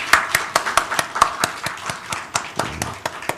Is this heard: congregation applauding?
yes